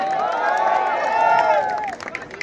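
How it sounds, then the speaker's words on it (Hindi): A crowd at a Suzuki Matsuri biker gathering cheers and claps for a bhangra performer, a dense sustained roar of voices and applause that stays loud and close before thinning out near the end. "जगतार जी के लिए जोरदार तालियों से एक बार"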